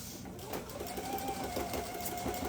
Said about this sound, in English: I'm sewing on a FOF Performance Icon